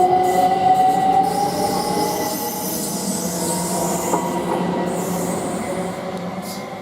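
An electric passenger train passes at Potters Bar on the East Coast Main Line, a loud, steady rolling rumble with thin wheel squeal rising over it, fading slightly toward the end.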